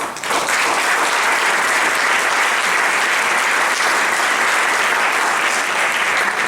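Loud, sustained applause from a large crowd at a Holocaust remembrance ceremony in a museum, steady and dense throughout, with no speech over it.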